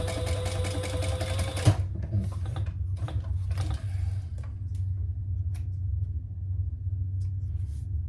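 A sewing machine runs a fast, steady burst of top stitching along a folded edge of bag fabric, then stops, followed by faint handling clicks and a low rumble.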